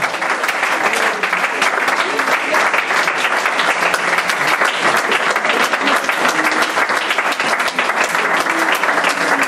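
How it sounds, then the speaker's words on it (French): A church congregation applauds loudly and steadily for Jesus, dense continuous clapping from many hands filling the room for the whole stretch, with shouts and voices mixed into the roar. "Est-ce qu'on peut acclamer pour Jésus?"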